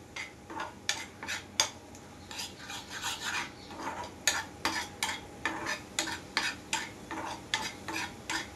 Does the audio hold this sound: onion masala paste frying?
yes